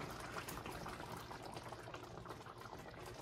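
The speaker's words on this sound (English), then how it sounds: "Now I'm going to pour in 1 cup of heavy cream." Heavy cream, one cup, poured into a sauce already simmering on an Indian curry in a home kitchen, giving a steady continuous bubbling, liquid wash close up with no voices.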